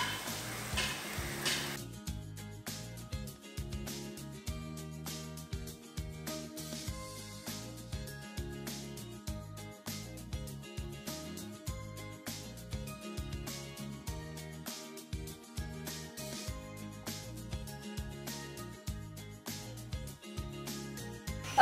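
Food frying in a pan on a stove until golden brown, a steady close sizzle and crackle with regular faint ticking taps, heard alone without talk.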